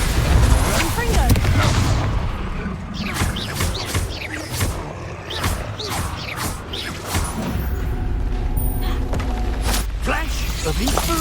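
Repeated Confringo fire-blast spell explosions in a Harry Potter video game, a rapid series of sharp bursts and booms over busy combat noise, with speech mixed in throughout.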